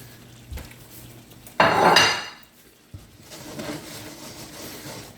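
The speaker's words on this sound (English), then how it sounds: "just want to slide this fish in, okay? Slide her in there gently." A fish fillet slides into a hot pan along with its collected juices, making a sudden loud sizzle that flares and fades over about a second, followed by a softer crackling simmer and a light clink of the pan.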